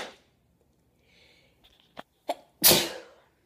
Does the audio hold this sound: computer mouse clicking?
no